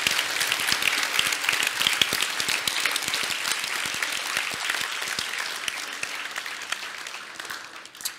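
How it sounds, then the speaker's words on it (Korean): A church congregation at a worship gathering applauding, a full, steady roar of many hands clapping together that holds for several seconds and fades slightly at the end. "우리 하나님께 영광의 박수 올려드립니다."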